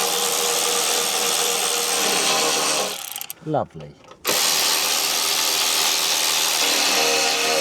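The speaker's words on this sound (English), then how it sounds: "Yes, drilling the hole." A power drill bores a hole beneath a Jeep Renegade for DIY rock sliders, a loud steady grinding whir running continuously with a short pause midway, while a voice briefly speaks.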